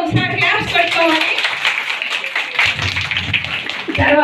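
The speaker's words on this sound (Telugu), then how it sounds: "అందరూ మనం ఒకసారి క్లాప్స్ పెట్టుకోవాలి" A crowd at a reunion of former schoolgirls meeting after 42 years claps in a loud, dense burst of applause, with voices mixed in around it.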